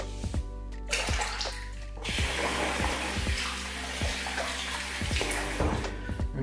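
A tap runs into a sink while a razor is rinsed during a wet shave. The water gushes steadily and close, broken by repeated splashes and knocks as the blade passes under the stream.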